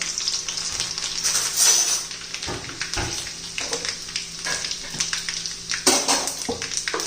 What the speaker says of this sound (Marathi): जिरं मोहरी तडतडली का लसूण घालायचंय.